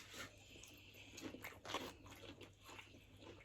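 Close, crisp bites and chewing crunches while eating onion rings and hot chips from Hungry Jacks, a few irregular crunchy bursts in quiet surroundings with no talking.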